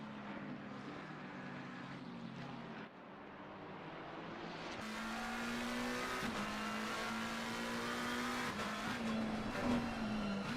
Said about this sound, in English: the sounds of the GT3 machinery that we've been going on about, because it's so good